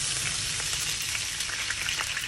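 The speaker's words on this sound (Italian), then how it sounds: "Olio e peperoncino, soffriggete bene." Garlic, olive oil and chili pepper fry in a pan for spaghetti, a dense, steady sizzle with crackling pops, close and continuous without any voice over it.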